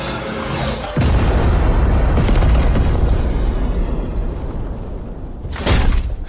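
A sustained, heavy barrage of booming explosions from a drone saturation strike in an animated fantasy battle, rumbling continuously and loud after a brief lead-in, with another burst near the end.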